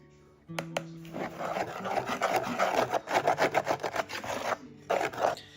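Dry ingredients for a vegan breakfast bake, including coconut sugar, baking soda, cinnamon and salt, are stirred together in a large bowl, giving a steady, close scraping and rustling with rhythmic pulses over about five seconds and no talk.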